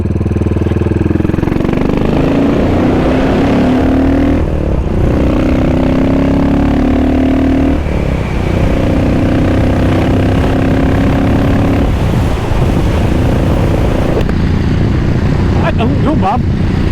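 A Royal Enfield Continental GT motorcycle engine revs up and settles repeatedly, rising and falling in loud surges close by, with speech present and no long pauses.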